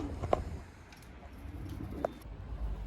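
Breeding pigeons or doves coo softly in an aviary before feeding, with two short coos about two seconds apart against a low, steady background hum.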